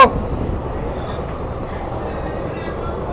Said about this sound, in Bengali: ট্রেন এখন চলছে একশোর ওপরে